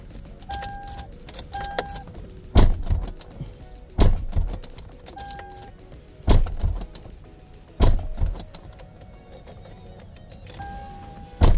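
Repeated door lock actuators on a 2006 Toyota 4Runner thunk several times at regular intervals during key fob programming, mixed with short electronic beeps and faint clicks nearby.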